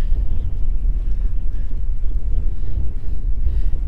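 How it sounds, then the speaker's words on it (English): Strong wind roars steadily across a lake while bass fishing from a boat in spring, a loud, constant buffeting rumble over the microphone with no talk. "It is windy."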